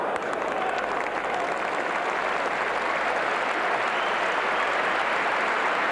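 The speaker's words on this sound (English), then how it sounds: "A great roar goes round the crowd." A crowd at a rugby league cup semi-final between Wigan and Bradford roars steadily, a broad sustained wash of noise from a large stadium with no break in it.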